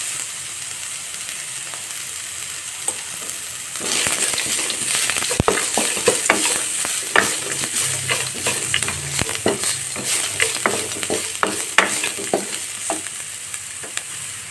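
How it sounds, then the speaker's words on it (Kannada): Onions are tipped into hot oil for a lemon rice tempering; after a quiet start a dense, crackling sizzle rises and continues, punctuated by stirring clicks, with no voices. "ಈರುಳ್ಳಿನ ಸ್ವಲ್ಪ ಫ್ರೈ ಮಾಡಿ"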